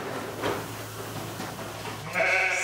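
Hardy ewes bleat in a busy milking parlour on a southwest French farm, the calls rising over a constant mechanical hum and clatter, one louder bleat near the end.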